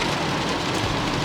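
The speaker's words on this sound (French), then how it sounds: "Il pleut encore et encore, comme d'habitude." Steady rain falls continuously, a dense, even hiss of drops on surfaces close by, with no voices over it.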